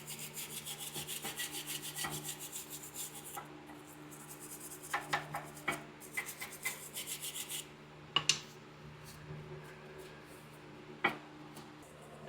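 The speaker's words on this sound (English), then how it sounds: "put some brake parts cleaner on it and scrub it off" A brake part being scrubbed after a spray of brake parts cleaner, heard as quiet repeated rubbing strokes in quick rhythm, then scattered scraping taps and a few sharp knocks.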